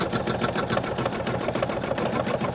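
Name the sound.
embroidery machine stitching around a snow globe ornament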